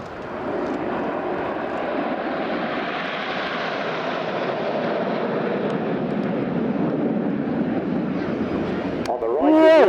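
Red Arrows BAE Hawk jets flying a display in short diamond formation at RIAT, a loud steady roar of jet engines passing overhead with wind buffeting, building slightly and ending in a sharp high whine.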